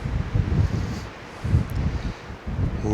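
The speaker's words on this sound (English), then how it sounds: "You can definitely feel the wind up here, a little more exposed." Wind gusting across an exposed overlook above Chisos Basin at dawn, rising and falling in low rumbling buffets against the microphone, with a faint rustle between gusts.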